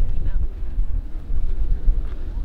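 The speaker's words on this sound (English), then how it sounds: "It's windy." Strong wind buffets the microphone on a mountain peak in low, uneven gusts, a rough rumbling roar that rises and falls throughout.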